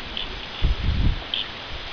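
Wind gusts rustle through leaves and plants outdoors, a steady rushing broken by a stronger swell in the middle.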